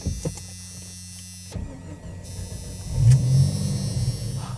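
A manual transmission being shifted in freezing weather, with a low idling engine hum, a sudden clunk and pause, then a grinding, rumbling surge as the gear engages, close and steady.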